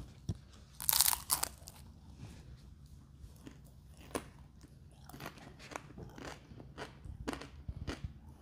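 A crunchy Neapolitan sfogliatella riccia pastry is bitten into, giving a loud crackling crunch near the start. Quieter, close chewing and crisp snaps follow, with no talking.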